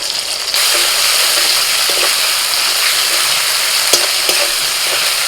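Tomato fries in hot oil in a pan with cumin, dried red chilli and ground spice paste, a loud steady sizzle with occasional stirring clicks, close and continuous.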